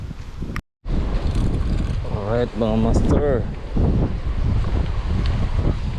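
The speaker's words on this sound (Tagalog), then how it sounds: "lakas po hangin na dito" Strong wind buffets the microphone in a steady roar throughout, with someone talking over it and a brief dropout near the start.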